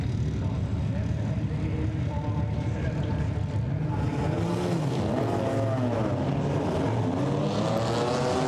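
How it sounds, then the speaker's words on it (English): GT4 race cars rumble together on a formation lap at Budapest in the GT4 European Series, a steady continuous engine drone with pitch sweeps rising as the pack accelerates, heard without talk. "The formation lap is underway."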